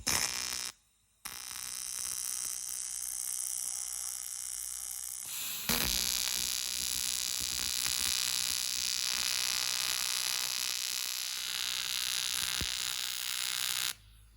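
Stick electrode arc welding on metal, a loud, steady crackling buzz that runs almost continuously, broken by one brief gap near the start and a short restrike partway through.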